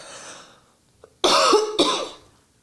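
Two harsh coughs close to the mic, one right after the other, following a soft breath, with no talking.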